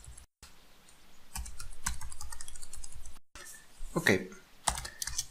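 Fingers type a password on a computer keyboard in two quick runs of light, even clicks, with brief pauses and a single spoken word between them.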